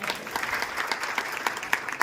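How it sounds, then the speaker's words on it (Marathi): An audience at a live entertainment event in Chinchwad, Pune bursts into dense, continuous applause, many hands clapping together at close range, with a faint voice underneath. "आपण याच्यावर टाळ्या वाजवूया"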